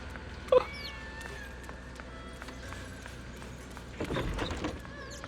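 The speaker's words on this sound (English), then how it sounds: "she has a cat in her room" A cat meows in a room in the video game Zenless Zone Zero, with one short, sharp meow near the start and a longer, louder cry toward the end over quiet game ambience.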